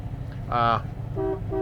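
A 1962 Lincoln Continental's horn toots twice, a longer honk then a shorter one, close by over a low engine rumble.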